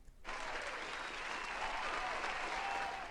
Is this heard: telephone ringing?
no